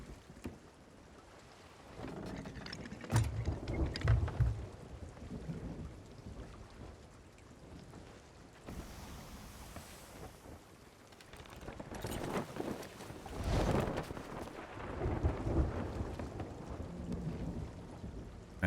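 Rain and thunder at sea in a sailing video game: a steady hiss of rain with rolling thunder claps swelling loud several times, no talking.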